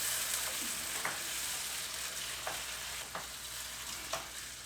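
A whole tin of chopped tomatoes sizzles in a one-pot chicken and rice dish, a soft, steady hiss broken by a few faint scrapes and clicks of stirring.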